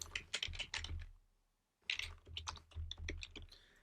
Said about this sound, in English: So let's actually just type this out.